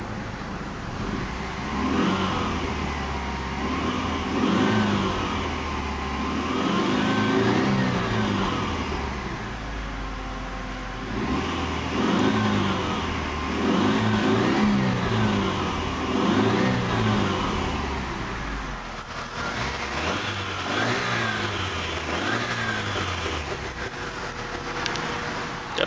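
A 1990 Hyundai Sonata GLS engine runs steadily and revs repeatedly in close, loud swells, several rising and falling pulls, with no talking.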